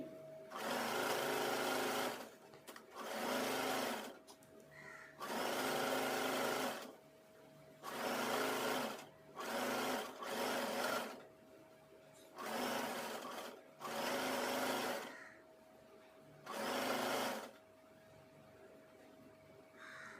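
A home sewing machine stitches fabric in repeated bursts of rapid mechanical whirring, each lasting one to two seconds, separated by short pauses, close and clear with no talking.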